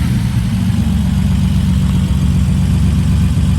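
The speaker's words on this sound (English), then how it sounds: "It's a Datsun with a V8." A Datsun car fitted with a V8 engine idles up close at a cars and coffee meet, giving a loud, steady low rumble with a fast, even throb throughout and no talking.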